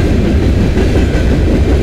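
Freight train M397, running from Toronto toward Gary, Indiana, passes close by on the Dundas Subdivision in London, Ontario, a loud continuous rumble of rolling railcars with rhythmic wheel clatter.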